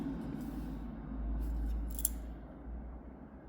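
A steady mechanical hum and buzz of a Wainlux K10 portable laser engraving machine running continuously, with a brief faint click partway through and no voices.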